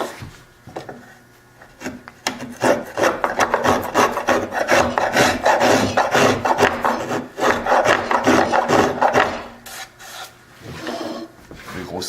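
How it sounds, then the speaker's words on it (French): A rasp files the wooden surface of a step-stool chair under construction in a woodworking shop, with a steady run of dense back-and-forth rasping strokes that starts after a quiet opening, then eases off and resumes briefly near the end. "Maintenant, on râpe"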